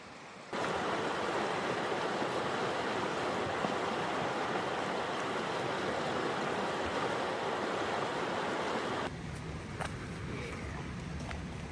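Willow Creek rushes past a campsite in Alaska with a steady, dense wash of flowing water that fills the whole stretch, close and even, softening a little toward the end.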